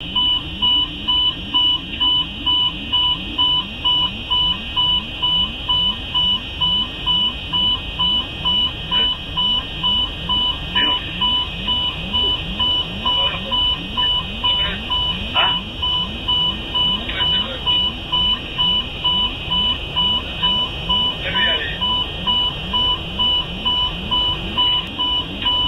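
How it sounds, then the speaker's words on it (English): Real cockpit audio from Aeroperu Flight 603 with alarms sounding without a break. A high, continuous warning tone runs over a rapid, rhythmic pulsing chime for the whole span, and tense crew voices cut in now and then under the alarms. "The cockpit was overwhelmed with alarms and voices urging calm."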